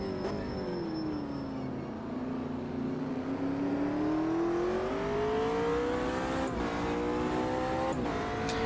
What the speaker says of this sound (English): This McLaren sounds good.